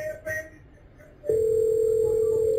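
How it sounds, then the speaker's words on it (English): A single steady ringback tone on an emergency 911 call sounds through a phone line after a brief quiet, clear and continuous. "Now it's ringing."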